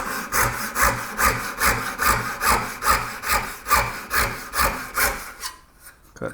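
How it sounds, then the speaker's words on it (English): A dovetail hand saw rips through 3/4 inch thick hickory clamped in a vise, close and loud, with about fourteen rhythmic push-pull strokes before stopping. "this is the dovetail saw."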